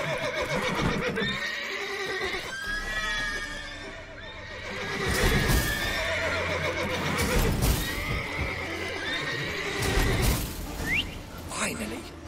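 Horses in The Witcher 3 whinny and neigh repeatedly, with hoof clip-clops and a voice talking over them; the calls come in loud bursts that rise and fall across the scene.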